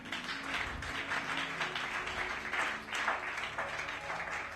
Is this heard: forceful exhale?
no